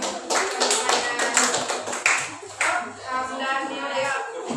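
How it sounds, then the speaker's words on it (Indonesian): A classroom of students claps for their classmates during a practical class-guidance exam, with brisk overlapping hand claps close by, varying in intensity and mixed with some voices. "Beri tepuk tangan untuk teman-teman."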